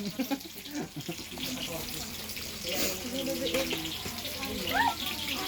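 Water runs steadily from a tap, a continuous rushing splash that persists throughout, with people talking nearby over it.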